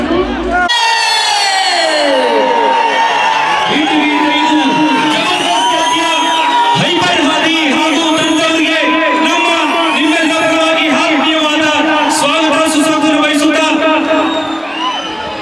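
A large crowd roars, whoops and whistles for dancer Manikantha at an outdoor stage show in Mulbagal, a loud, dense and continuous wall of cheering voices that lasts throughout.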